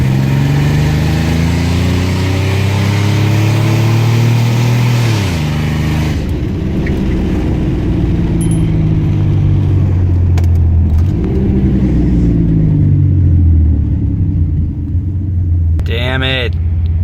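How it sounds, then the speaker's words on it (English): A car with an open header exhaust rumbles loudly from inside the cabin, its engine revving up and easing off several times with a coarse, droning tone, while voices talk over it. "but this car sounds like shit"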